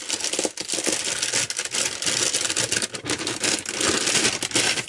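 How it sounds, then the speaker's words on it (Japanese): BVD Power Athlete mesh micro bikini underwear being unpacked from its plastic packaging, with continuous close crinkling and rustling that rises and falls over several seconds, no voices. "もうちょっと開封していきたいと思います。"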